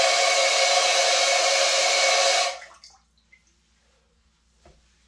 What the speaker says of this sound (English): the nozzle drops down from here, and we just put this right here. And it sprays right under there.